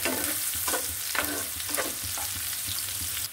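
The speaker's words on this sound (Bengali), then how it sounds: "এখন আমি এটা ভালো করে ভেজে নেব।" Sliced onions sizzle in a hot pan, a steady close frying hiss broken by repeated scraping stirs that come every half second or so, with no one talking.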